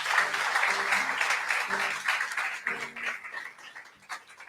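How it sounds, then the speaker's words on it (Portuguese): Worshippers clap for Jesus in a Portuguese-language church service, a dense burst of applause mixed with voices that gradually thins and fades toward the end. "Dê um aplauso a Jesus, aleluia."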